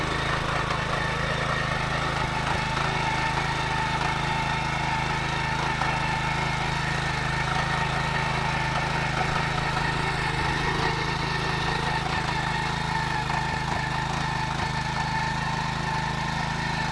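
A tractor engine runs while ploughing a farm field in a rural village, a steady low drone that holds even and continuous throughout, near and fairly loud, with no voices.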